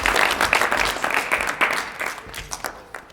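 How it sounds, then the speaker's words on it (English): An audience applauds at the end of a theatre play, a close, dense patter of many hands clapping that stays lively and then eases slightly toward the end. "he's actually inviting the audience to start clapping."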